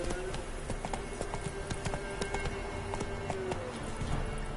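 Steady clip-clop of the horse Roach galloping in a video game, continuous rhythmic hoofbeats over game ambience throughout, no voices.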